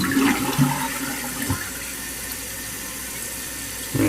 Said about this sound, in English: Now we're going to flush it.